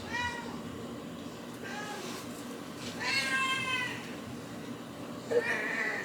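A cat meows several times, drawn-out and fairly close, with short pauses between cries over a low steady background hum.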